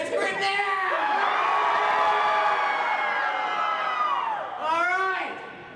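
Concert crowd at a Vampira tribute show screaming on command, a sustained loud mass of high cheering and shrieks that swells, fades, then flares again in a second short burst.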